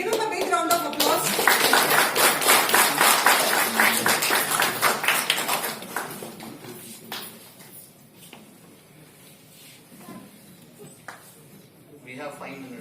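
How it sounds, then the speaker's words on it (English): Applause from a launch-event audience for Khizer at the Chatbaaz app debut, dense clapping swelling for several seconds then thinning to scattered claps and room murmur. "So give him a big round of applause"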